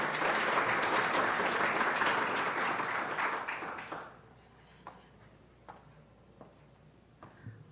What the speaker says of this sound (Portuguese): recibámosla con un caluroso aplauso